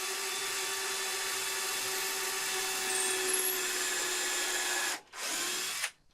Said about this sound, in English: I'm hoping if I pre-drill the 2x2 it won't split.